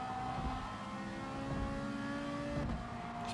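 Race cars, a Ferrari and McLarens, roar through a racing game's Tokyo or Le Sarthe circuit, a steady high engine drone that shifts pitch as gears change, loud and continuous.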